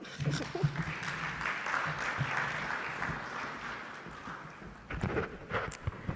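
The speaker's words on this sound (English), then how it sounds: "Please clap for her." A conference audience claps for Diana Rutabingwa, component manager at GIZ, in soft, steady, somewhat distant applause that swells briefly again near the end, with faint murmuring underneath.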